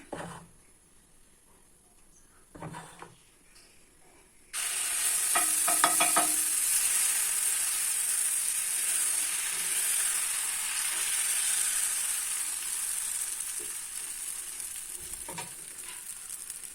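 Jackfruit dosa batter hits a hot pan and breaks into a loud, steady sizzle that keeps going to the end, after a few seconds of quiet with faint kitchen clatter.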